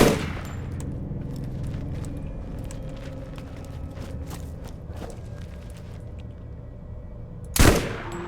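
Hyperion shotgun fire in a video game, a steady rumbling burst of shots and mechanical clatter, then one loud close blast near the end, with no voices.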